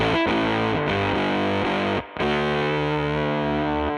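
Distorted guitar chords played through a Death by Audio Octave Clang V2 octave fuzz pedal, loud and gritty, a run of sustained chord strums with a brief gap near the middle before ringing out again.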